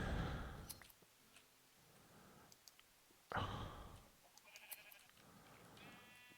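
Sheep in the Minecraft video game bleat a few times, faint and spaced apart among soft clicks and game ambience.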